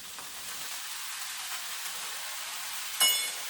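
Soy sauce goes into a hot pan of frying chive flowers and egg. A steady close sizzling hiss flares into a brief, louder burst near the end, with no voices.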